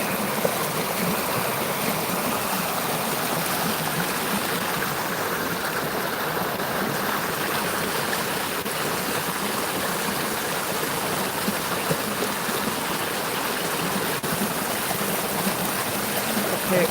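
Steady rushing of McMillian Creek, water flowing continuously over rocks with a constant broad hiss and no voices.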